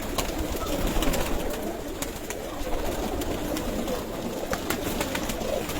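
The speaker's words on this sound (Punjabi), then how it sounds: "ਅੱਸੂ ਦੀ ਤਿਆਰੀ ਵਾਸਤੇ ਕਬੂਤਰ ਕੱਢੇ ਨੇ ਜੀ" Racing pigeons coo softly and repeatedly over a steady background hiss, with occasional faint clicks and flutters mixed in, on a rooftop.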